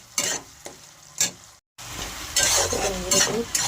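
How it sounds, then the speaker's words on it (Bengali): Mustard and poppy seed paste frying in a pan while being stirred, with close, intermittent spatula scrapes over a low sizzle, a brief silent break, then a louder, busier bubbling sizzle with more stirring; no talking. "এটাকে আমি ভালো করে নেড়ে করে দেখি"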